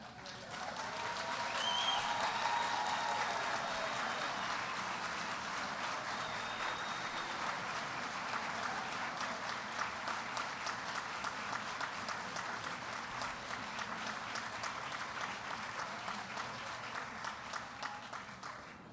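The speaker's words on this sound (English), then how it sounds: "So can you all stand up so we can clap for you?" Sustained applause from a seated-then-standing audience at a spring honors and awards ceremony, a dense steady clapping crowd lasting the whole stretch, loud and continuous with no break.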